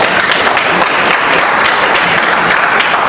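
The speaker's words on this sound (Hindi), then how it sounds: "ताली बजनी चाहिए" Loud, dense applause from a seated audience at a business training session, a steady wash of many hands clapping together without a break, close and full throughout.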